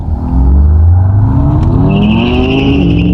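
A BMW M5 Competition accelerating hard, heard from inside the cabin, its engine roaring loudly with rising pitch as it climbs through the revs, with a high whine building on top.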